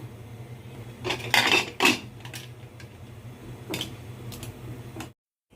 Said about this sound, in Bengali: এখন আমি প্রেশারে ঢাকনাটা লাগিয়ে দিব